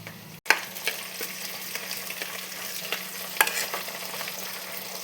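Chopped green chillies fry in a pan for a fish curry, a soft continuous sizzle after a sudden start, with scattered light clicks and scrapes from stirring, close and quiet, with no one speaking.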